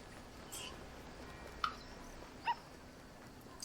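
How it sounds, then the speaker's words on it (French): A small dog in the video game Alba: A Wildlife Adventure gives two brief, faint yips against a quiet background. "Oh, un petit chien."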